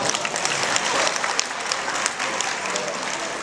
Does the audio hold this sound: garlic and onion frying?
no